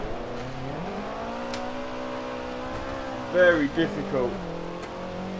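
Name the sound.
Subaru BRZ car engine in video game Forza Motorsport 7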